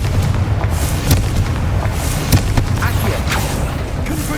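Confringo spell blasts in Hogwarts Legacy, dull booms and sharp cracks going off every second or so over steady game noise and music.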